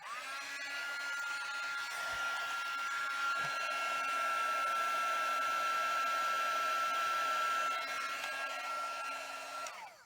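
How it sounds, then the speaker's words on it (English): Electric heat tool blowing steadily while melting embossing powder on a white card panel, a constant close whirring hum with a whistling tone that runs for about ten seconds, then cuts off. "And again, use my heat tool here."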